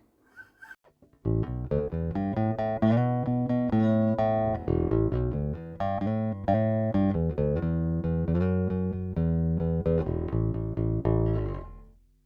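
A clean, undistorted electric guitar played through a Harley Benton Ministomp Magnum DI pedal at zero gain with cab sim off plays a chordal riff with clear, bright notes for several seconds, then rings out.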